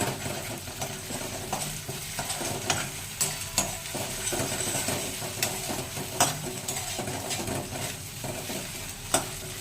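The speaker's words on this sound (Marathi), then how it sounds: "कांद्याचा रंग बदलला आहे, तो भाजला जात आहे, भाजला गेला आहे, थोडासा बाकी आहे। लागू नये म्हणून ढवळत राहायचं असं।" Onions browning in a light kadhai over a gas flame, a steady sizzle with repeated scraping and clinks of a spoon stirring, close and continuous without talk.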